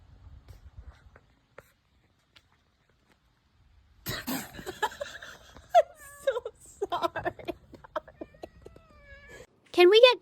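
A cat meows and wails in a few drawn-out, rising cries, the loudest coming near the end, with scattered clattering noises and a person talking in between.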